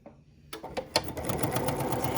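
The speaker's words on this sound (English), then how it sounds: "I'm just sewing my strip." A sewing machine stitches a quilt fabric strip with an unchanged stitch length, starting after a quiet half-second and then running steadily with a fast, close whirring rhythm.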